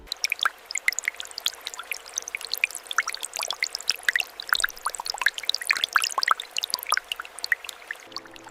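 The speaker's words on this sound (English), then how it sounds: "These high-speed industrial washing machines utilize controlled water jets to thoroughly cleanse the Arabic camel hides" Water jets in an industrial washing machine spatter and pour over Arabic camel hides during rinsing, a dense, steady stream of close splashes and drips with no voices.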